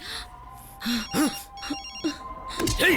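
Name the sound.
telephone ringing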